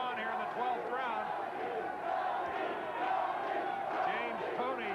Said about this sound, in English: James Toney's section begins to chant his name.